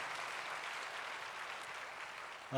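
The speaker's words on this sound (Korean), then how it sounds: "박수로 환영하도록 하겠습니다" Faint, steady applause from a church congregation welcoming a guest during a Sunday worship service, soft and even throughout.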